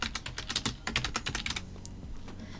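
Text is typed on a computer keyboard: quick bursts of crisp key clicks in uneven clusters, fairly close, with brief pauses between runs and no talking.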